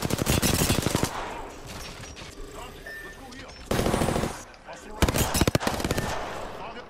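Automatic and single weapons fire in the video game Apex Legends comes in dense rapid bursts with pauses between volleys. Players talk over the shooting.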